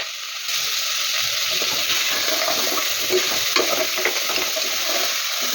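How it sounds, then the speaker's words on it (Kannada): Trotters sizzling in hot oil for a spicy trotter soup, a steady crackling fry close by, with faint scrapes and stirring clinks now and then and no voices. "ಇಲ್ಲಿ ಕಾಲು ನೀಟಾಗಿ ಒಂದು 5 ನಿಮಿಷ ಚೆನ್ನಾಗಿ ಫ್ರೈ ಆಗಲಿ ಎಣ್ಣೆನಲ್ಲಿ"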